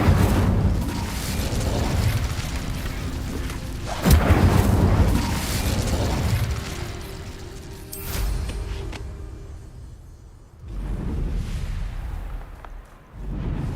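A fire spell, Incendio, cast in the Hogwarts Legacy video game, heard as loud booming bursts with a sharp hit near the four-second mark, then a rumbling roar that dips and swells again.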